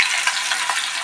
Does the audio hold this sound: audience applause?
no